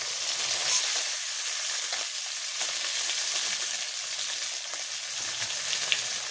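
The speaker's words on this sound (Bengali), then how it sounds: "আর কিছু মাছ আমি ভাজি করব, এটা এখন নামাই নেব। হয়ে গেছে ভাজি।" Hilsa fish frying in oil in a pan, a steady bright sizzle and crackle that runs without a break, close and fairly loud, with no talk over it.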